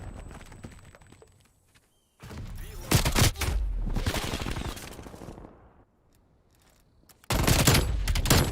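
MAC-10 submachine gun in a shooter video game firing rapid full-auto bursts, one long burst in the middle and another at the end, loud and close, with quieter stretches of footsteps and ambient noise between.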